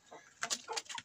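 Young hens and a rooster kept together in a coop cluck in short, close bursts, several quick overlapping calls within a second, fairly quiet and with no talking.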